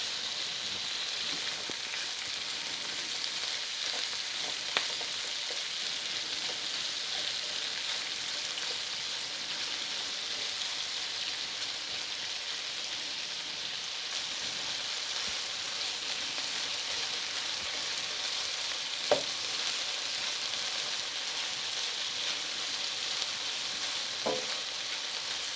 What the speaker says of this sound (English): I'm going to be cooking this until the onion comes translucent.